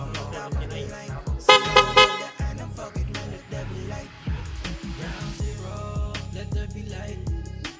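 Loud horn of a 1991 Honda CRX after rewiring, sounding in a string of short and longer honks close by, with brief gaps between blasts.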